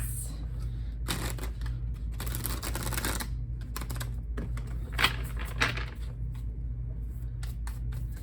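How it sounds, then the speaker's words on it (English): Tarot cards riffle and flick in quick close bursts during shuffling, with soft slaps and pauses between runs over a steady low hum. "shuffle a little bit more"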